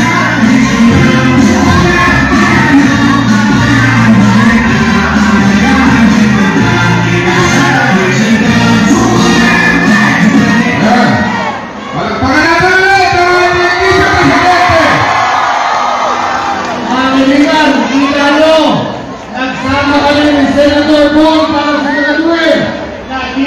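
A large crowd at a BBM–Sarah UniTeam grand proclamation political rally roars continuously, loud and close, with whoops, long shouted calls and cheering swelling and dipping, voices chanting over the din.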